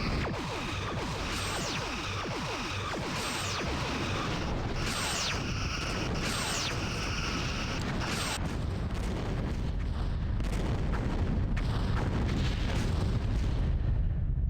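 Torpedoes firing during ship combat in the Star Trek Bridge Commander space game, a run of booming launches and explosive bursts, several in quick succession before a steadier rumbling wash of impacts.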